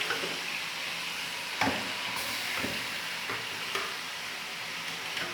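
Chicken karahi shallow frying in oil with masala, a steady close sizzle and hiss with a few stirring clatters and scrapes against the pan.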